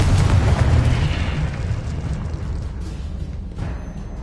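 A Confringo spell explosion in Hogwarts Legacy bursts with a loud, heavy boom at the start, then a dense rumbling roar slowly fades over a few seconds.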